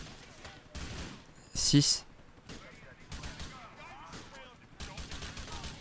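One loud gunshot bursts out during a police shootout in GTA IV, with someone speaking French over the game before and after it.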